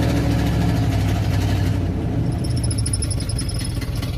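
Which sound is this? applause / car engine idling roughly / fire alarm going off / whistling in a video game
car engine idling roughly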